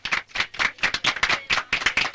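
Applause after a sung performance at an evening program, a run of rhythmic clapping bursts at moderate volume with no voices.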